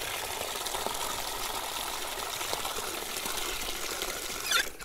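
Water pouring steadily into a pail outdoors, a constant gushing splash that holds even throughout, with a brief brighter slosh near the end.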